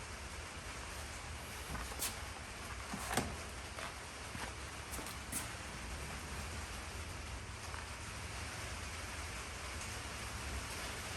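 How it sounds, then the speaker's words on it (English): Steady rain drums on a shop roof, a dense continuous patter with a few louder drops standing out, no voices. "It's raining again. Here pounding on the shop roof."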